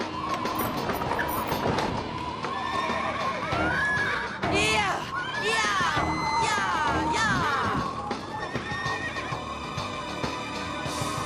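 Horses whinny repeatedly over a dense rumbling, clattering background, the shrill neighs rising and falling loudly near the middle, with a voice talking over them in an animated scene.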